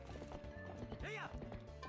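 Epona the horse gallops in Zelda: Twilight Princess HD, a brisk rhythmic clip-clop of hooves with a short neigh in the middle, heard faintly alongside game music.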